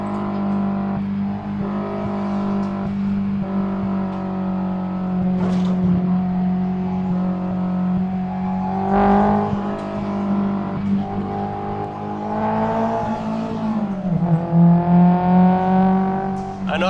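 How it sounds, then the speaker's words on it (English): Honda S2000 engine revving while driving on a road trip, a loud sustained in-cabin engine hum that climbs and dips with throttle changes, with a gear shift and rising revs toward the end. "I didn't want to be revving so hard in seconds"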